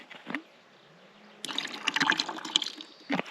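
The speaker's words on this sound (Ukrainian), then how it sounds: "якщо є амінокомплекс, то гріх не залити." Amino complex liquid is poured over natural hemp seed bait for carp fishing, with a brief splash, then a wet trickling and glugging pour up close after a quiet start.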